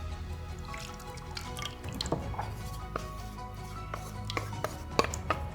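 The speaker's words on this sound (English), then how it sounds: "So grab your melted and cooled butter here" Melted, cooled butter pours into a bowl for a lemon slice base, with a faint liquid trickle and scattered small drips and taps over a low background hum, quiet and close.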